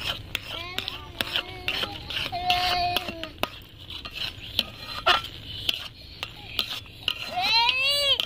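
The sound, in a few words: stirring semolina into lentil dough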